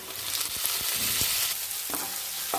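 Onions sautéing in a pan for Kerala-style sardine curry, giving a steady close sizzle with a few light stirring scrapes and clinks, no voices.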